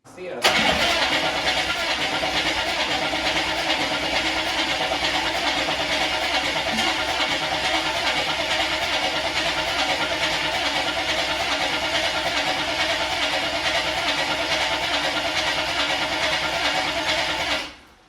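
A project car's engine, fitted with a turbo setup, cranks and fires, then runs loudly and steadily close by for about seventeen seconds before cutting off.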